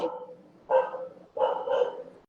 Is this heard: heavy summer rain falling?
no